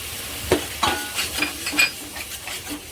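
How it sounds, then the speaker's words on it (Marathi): Spoon stirring yogurt into egg biryani masala in a hot pan, soft scraping strokes over a light sizzle, several close strokes in quick succession. "चांगलं मिक्स करून घ्यायचं एक जीव होईपर्यंत"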